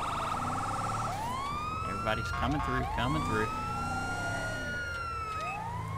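Wailing ambulance siren in the GTA 5 video game, sweeping up and down repeatedly and staying loud and steady throughout, with someone talking over it.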